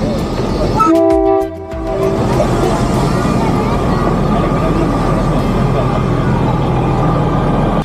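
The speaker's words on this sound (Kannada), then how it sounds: "ಕೊನೆಗೂ ಟ್ರೈನ್ ಬಂದೇ ಬಿಡ್ತು." A train arriving through the Thailand railway market sounds its horn in a few long blasts, then rumbles steadily and loudly past at close range, with people talking around it.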